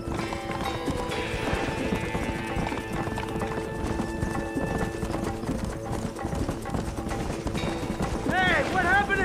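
Horses galloping with rhythmic hoofbeats in the Red Dead Redemption video game, loud and continuous, with a horse whinnying near the end and game music and voices underneath.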